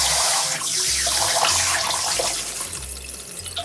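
Running tap water pours steadily over sliced rice cakes for tteokguk as they are gently swished and rinsed in a fine sieve, giving a close, continuous rushing splash throughout.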